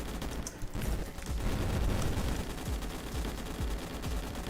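Dense, continuous gunfire and bullet bursts from the video game Yawnoc, a loud unbroken barrage filling the whole stretch with rapid overlapping shots and booms.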